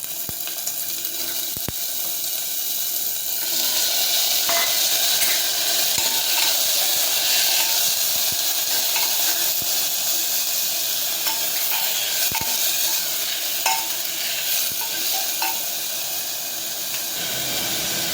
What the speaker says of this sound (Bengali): এবার আমি একে একে ধুয়ে রাখা সবজিগুলো দিয়ে দেবো